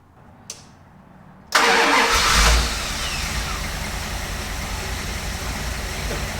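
A Dodge 318 V8 cranks briefly after a click and fires up on its first start in ten years, revving loudly before settling into a steady, rumbling idle close by.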